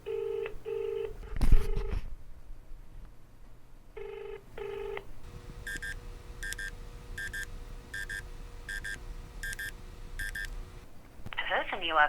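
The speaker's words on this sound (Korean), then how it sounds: "우연히 알게 된 전화번호가 있어서 직접 전화를 걸어봤습니다" Phone call dialed on a handset: a quick run of keypad dialing tones, then a steady ringback pulsing in about nine short evenly spaced bursts, with a faint background hum and a different warbling tone at the end.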